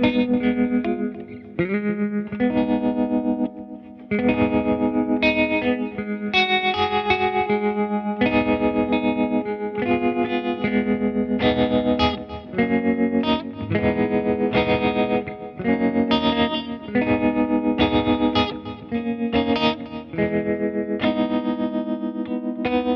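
Electric guitar run through Bias FX Live effects, a continuous riffing passage with chorus and distortion tones, steady and loud throughout with short dips between phrases, no talking.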